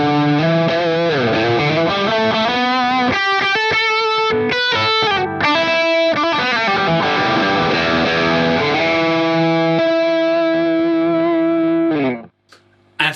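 Electric guitar rhythm tone through a pedalboard with a Pure Sky overdrive pedal, loud strummed and held chords with a driven, slightly chorused sound ringing for several bars before cutting off near the end.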